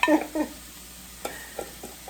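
Seasonings, including onion powder, heat in a pan with a few short, close sizzling bursts and stirring scrapes separated by quieter gaps.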